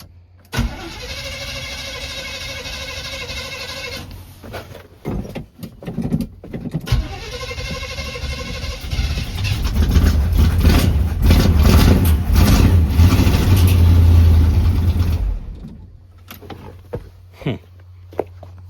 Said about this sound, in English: Gonna try and crank it up and run over there real quick and control the throttle.